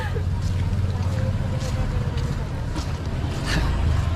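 A steady low engine drone with water noise from a motorboat running, while people talk nearby.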